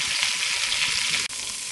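Short ribs sear in butter in a hot pan, giving a dense, loud, even sizzle up close that breaks off sharply near the end, then resumes more faintly.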